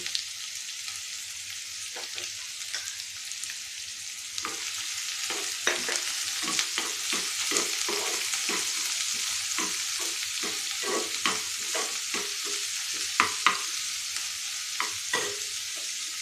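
Chopped onion fries lightly in a pan, a soft continuous sizzle broken by repeated scraping and stirring strokes that come in irregular bursts, close and moderately loud.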